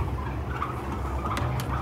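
Turkeys gobble inside a large commercial turkey farm, several rattling calls standing out over a constant dense hum of the flock and barn noise.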